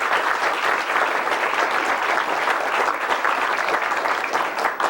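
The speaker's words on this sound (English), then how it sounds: "give him a round of applause." Guests at a retirement party for a newspaper managing editor give a sustained round of applause, an even, crowded roar of clapping holding steady throughout from a large gathering.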